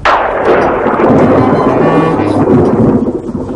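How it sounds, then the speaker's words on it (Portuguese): A loud, deep rumble of thunder rolls on continuously, close and heavy, with a faint hiss of rain underneath. "Está chovendo lá fora, o senhor relâmpago está roncando."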